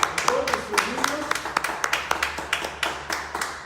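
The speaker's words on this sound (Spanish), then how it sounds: "Un aplauso ahí a todos nuestros niños" Scattered applause for the children in a church service, sparse handclaps in an uneven rhythm over a low room hum, with voices murmuring underneath.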